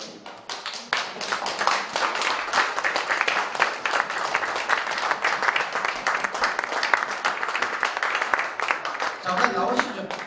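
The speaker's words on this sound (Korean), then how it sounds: "단독 입구로 기립박수를 요구합니다." A hall full of people at a church revival association general assembly claps in a sustained standing ovation, dense and even for ten seconds, with a brief voice near the end.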